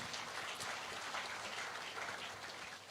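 Sustained crowd applause fills the room after a cricketer's introduction at an interview event, a dense, steady patter of many hands clapping that fades slightly toward the end.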